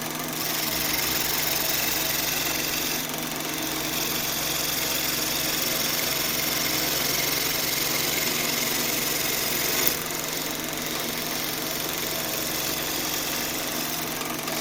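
Skew chisel cutting shavings from wood spinning on a lathe while woodturning a frame, a steady continuous hiss and scrape over a low motor hum, close and fairly loud throughout.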